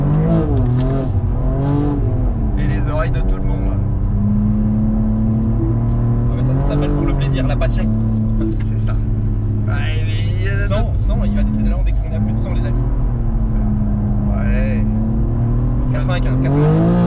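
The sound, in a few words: 750 hp BMW M2 drifting at Lohéac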